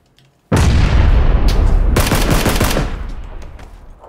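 Loud, sustained automatic gunfire in PUBG: Battlegrounds, a rapid burst of shots starting abruptly and rolling on for over three seconds with rumbling echo before fading, aimed at the upper floor of a thatched house.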